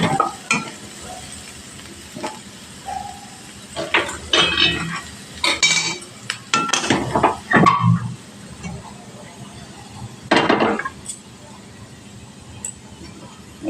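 Vegetables tip into a pot of moong dal, giving a few clattering knocks of a spoon against metal and short bursts of stirring, with brief sizzles in between and quiet gaps.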